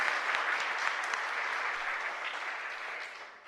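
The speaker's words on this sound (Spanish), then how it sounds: "le agradecemos con un fuerte aplauso por venir hoy a compartir con nosotros." A church congregation applauding a parish guest, a dense wash of many hands clapping at moderate distance, steady throughout and slowly fading toward the end, with no speech over it.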